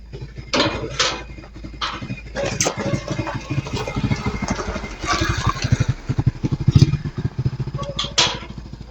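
A nearby motorcycle engine runs with a rapid, pulsing putter, rising in a few louder bursts over about nine seconds.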